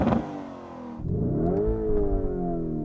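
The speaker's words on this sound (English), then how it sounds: "I'm gonna rev up this turbocharged V8 and see what it sounds like." A Lamborghini Urus with a turbocharged V8 revs up close by: a short burst, a brief dip, then a rising, sustained engine note that holds steady and loud.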